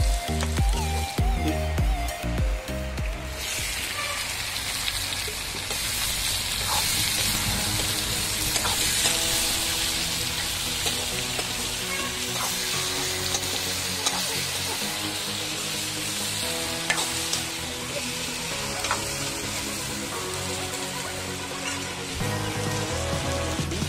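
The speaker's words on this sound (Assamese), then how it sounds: "অলপ ভাজি লওঁ।" Onion, ginger and garlic fry with spices in a pan, giving a steady, dense sizzle that runs on alone with occasional light clinks and no talking.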